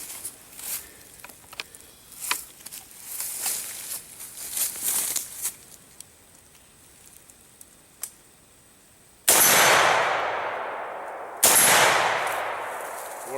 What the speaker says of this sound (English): I'm going to take a few shots offhand here, see if we can make that steel ring